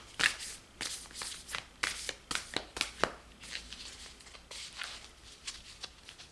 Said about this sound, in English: I will shuffle these a bit.